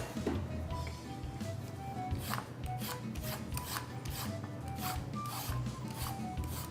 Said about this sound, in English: We got 4 carrots. And we're gonna peel them because you don't want the outside skin in there.